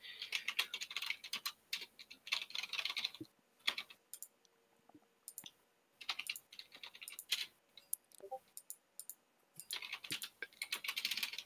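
Bursts of typing on a computer keyboard, quick clustered clicks with short pauses between runs, close and moderately loud, no voices.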